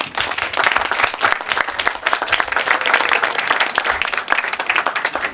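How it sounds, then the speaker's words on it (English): An audience at a library's 125th anniversary celebration gives a round of applause for the library staff, a loud, close, sustained burst of many clapping hands. "So if we could give a round of applause for our library staff."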